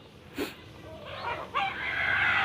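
A rooster crows outdoors at a rural spot near Padang, one rising harmonic call that builds in the second half of the clip over steady background noise.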